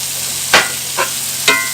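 Ground meat for a keto meatloaf browns in a pan while a metal spatula breaks it apart, giving three short scraping bursts over a soft, steady sizzle, close and without talk.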